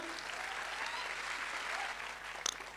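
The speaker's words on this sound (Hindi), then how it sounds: "खुशी लग रही हो, अच्छा लग रहा हो तो ताली बजाना" An audience at a direct selling business seminar claps continuously, a dense even patter of many hands that holds steady throughout, heard at a slight distance in the hall.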